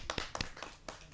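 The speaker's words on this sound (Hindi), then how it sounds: "मैं चाहता हूं कि उनका जोरदार तालियों से हम स्वागत" Scattered hand claps from the audience at a Hindi poetry gathering as a poet is welcomed, a handful of distinct claps in an uneven rhythm, fairly close and not dense.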